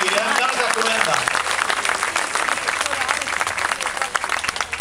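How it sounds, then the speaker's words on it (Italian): An audience applauds at the Premio Rotonda 2011 award ceremony, a dense, steady roar of many hands clapping throughout, with voices faintly mixed in. "Non ho sentito l'applauso, ma glielo facciamo perché ormai l'ho deciso"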